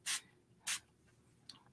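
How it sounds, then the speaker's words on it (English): Spray bottle misting water onto ink in an art journal: two short, soft hissing spritzes followed by a fainter third puff, close and quiet with no talk. "I'm going to spray a couple spots."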